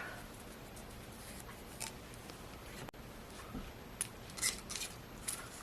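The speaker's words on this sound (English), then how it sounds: "And I'll just line it up and snip it off." Scissors snip paper strips for a paper pumpkin craft, with several crisp cuts near the end over quiet room tone.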